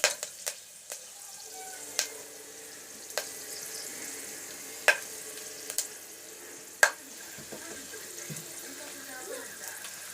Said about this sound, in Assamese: গৰম মছলাকেইটা দিলে ফুটে